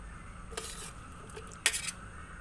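Eggs pickled in fish sauce with garlic and chili are spooned gently into a container: two brief, faint clinks and scrapes of a spoon against the dish over a quiet background.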